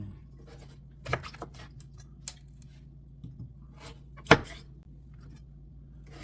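A knife cuts monkfish in half on a board for Korean monkfish stew, giving a few sparse, sharp cuts and taps with one louder chop in a quiet kitchen.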